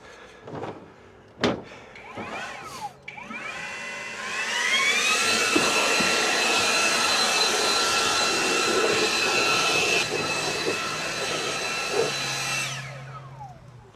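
A cordless battery-operated blower runs near and steady for about eight seconds, spinning up with a rising whine and winding down at the end, with clunks and knocks around a fifth wheel hitch job on a 2007 Ford F250 before it starts.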